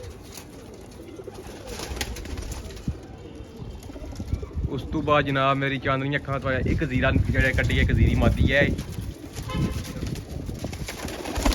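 Someone speaks over a background of birds and occasional pigeon-like cooing, with outdoor rustling throughout.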